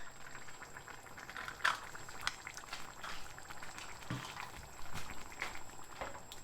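A pot of pumpkin soup bubbles at a gentle boil, soft irregular pops and blips over a quiet hiss, close by with no talking.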